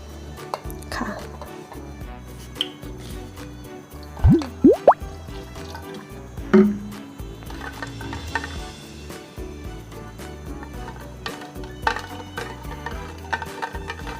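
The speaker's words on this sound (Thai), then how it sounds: "เดี๋ยวเราจะไปล้างนะคะ ล้างให้สะอาดเลยค่ะ ล้างเอาเนื้อเขาออกให้หมดเลยนะคะเนี่ย" Longan seeds being washed by hand in water, with scattered drips, splashes and stirring sounds alongside some brief clattering knocks at close range, no speech.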